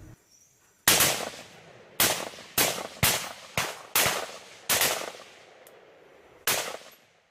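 Police fire on a wooden house in the middle of a mountain in Poso: about nine sharp, loud gunshots crack at irregular intervals, each one ringing out and decaying before the next.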